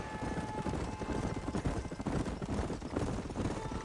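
Horses ridden in the Western video game Red Dead Redemption: a steady, close clip-clop of hooves over a constant background rumble, with a hint of voices.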